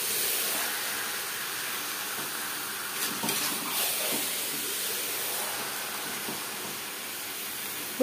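Chicken and onions stirred in a hot pan for restaurant-style chicken curry, giving a steady close hiss of frying with a few scraping stirs and soft clatters over the continuous sizzle.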